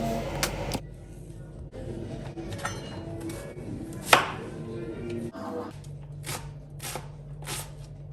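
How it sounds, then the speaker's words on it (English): Ginger and garlic crushed for okra soup: a series of sharp, close knocks and thuds on a hard surface at an uneven pace, with no talking. "I'm going ahead to crush my ginger and garlic."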